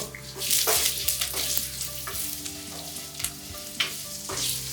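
Curry leaves and urad dal fry in hot oil, crackling and sizzling steadily near at hand with intermittent stirring scrapes and pops, no voices.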